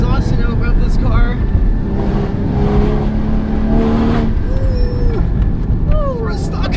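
A 2016 Porsche Cayman GT4 with its stock exhaust roars loudly and continuously from inside the cabin while accelerating and shifting, and people talk and exclaim over the engine.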